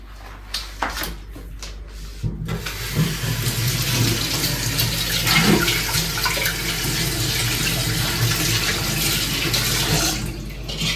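Tap water runs steadily into a vessel to soak a coconut, a close continuous splashing rush that starts after a few faint clinks and carries on evenly to the end.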